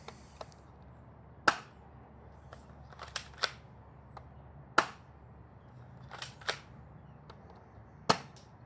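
Beretta APX manual-feed gel blaster pistol by X-Force Tactical firing gel beads, about seven or eight sharp snapping shots spaced irregularly over quiet room tone, each a crisp close pop with no talking.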